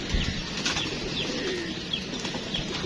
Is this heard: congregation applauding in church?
no